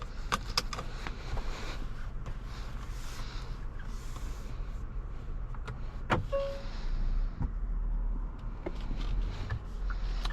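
A 2024 Hyundai Santa Fe Calligraphy sets off for a drive, with a low, steady engine and cabin hum, scattered clicks and clunks from controls, and a brief motor whine, all heard from inside at close range.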